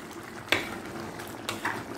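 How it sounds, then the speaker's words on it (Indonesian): Chicken pieces fry in hot oil for spiced serundeng, with a soft steady sizzle, a few sharp pops and crackles, and faint clinks of a utensil against the pan. "Saya akan goreng ayamnya dulu"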